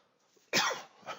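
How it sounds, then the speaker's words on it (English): A man giving a market commentary lets out a single sharp, close cough with a throaty rasp, followed by a softer second burst, against an otherwise quiet background. "Now this cough's getting worse."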